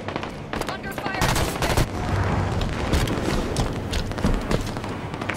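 Automatic gunfire from a Halo 5 multiplayer match comes in loud, overlapping bursts and sharp single shots that keep going throughout, while game voice callouts sound over the shooting.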